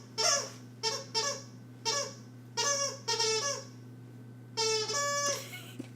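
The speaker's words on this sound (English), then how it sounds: "Piper's just playing with a squeaky toy" A dog named Piper plays with a squeaky toy indoors, producing a series of sharp, high, wheezing squeaks in short bursts separated by pauses, fairly close and loud over a steady low hum.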